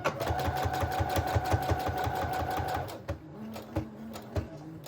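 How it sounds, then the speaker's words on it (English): Sewing machine running a steady straight stitch around patchwork fabric pieces for a junk journal, a fast rhythmic mechanical whir with regular needle thumps that stops partway, leaving a few clunks and faint handling. "I'm just gonna sew around some of the individual pieces"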